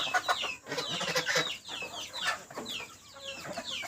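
Country chickens on a small farm clucking and calling in a busy overlapping chorus, fairly close, with repeated short rising and falling cackles and no talk.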